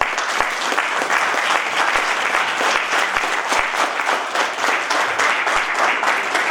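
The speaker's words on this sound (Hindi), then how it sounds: "एक बार तालियां हो जाएं।" A convocation audience claps in steady, sustained applause, many hands at once filling the room at an even, loud level throughout.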